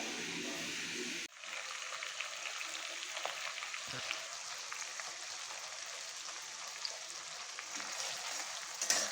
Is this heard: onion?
yes